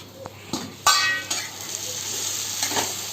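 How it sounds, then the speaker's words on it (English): Chicken sizzles in a pan for a desi-style chicken kassa, with a spoon stirring and scraping and a few sharp clinks of metal on the pan over a soft, steady frying hiss. "I will fry it with a lid only"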